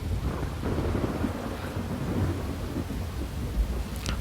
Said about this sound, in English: Oh, that thunder's loud.